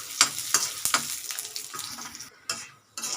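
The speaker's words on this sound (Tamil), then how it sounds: "இந்த வேர்க்கடலையை வறுத்து எடுத்துக்கலாம்." Peanuts dry-roasting and being stirred in a pan for rava mixture, a close, irregular run of rattling scrapes and soft crackles with brief pauses, no voices.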